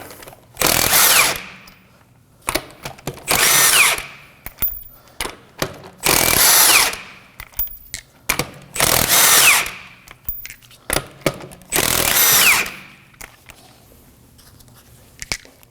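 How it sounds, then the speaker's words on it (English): An impact tool with a 19 mm socket whirs through five loud, close bursts with pauses between them, taking lug nuts off the left rear wheel of a 2014-2020 Acura MDX. "we're going to remove the tire using a 19mm socket"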